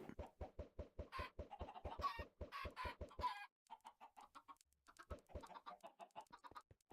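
Rapid, rhythmic clucking from chickens in modded Minecraft, a steady train of short pulses that breaks off midway, then resumes more sparsely with softer, scattered clucks.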